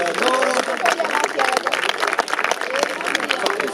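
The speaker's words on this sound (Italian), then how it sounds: "A tutti un applauso, la foto per loro." An outdoor audience claps for the rowing crew at the Santa Giusta regatta de is Fassonis, steady dense applause with cheering and chatter mixed in throughout.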